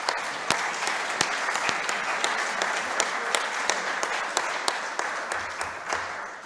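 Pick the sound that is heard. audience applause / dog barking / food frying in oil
audience applause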